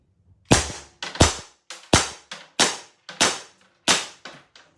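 A 68 caliber pepper launcher fires eight sharp, evenly spaced shots, each a loud crack with a quick decay, heard alone without talk.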